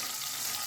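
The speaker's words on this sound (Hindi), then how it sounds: "लगाएंगे अब ज़ीरे का तड़का" Cumin seeds tempering in hot oil for a dal tadka, giving a steady, close hiss of frying that fills the moment without a break.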